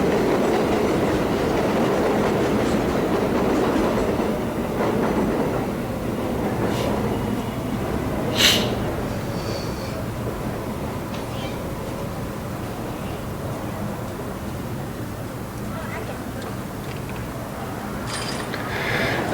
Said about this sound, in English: It's definitely loud when that train goes overhead.